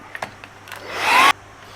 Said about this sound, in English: I'm going to grab my hairdryer and heat the crap out of that